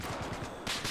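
A gunshot rings out in Battlefield 4, a short burst of game gunfire with sharp repeated cracks over steady background noise, louder toward the end.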